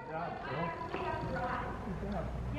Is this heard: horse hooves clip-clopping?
yes